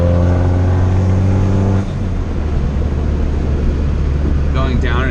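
Widebody car with turbo and a loud exhaust pulls hard while accelerating through a canyon, a steady close engine drone with a gear change partway through, and a voice briefly heard at the end.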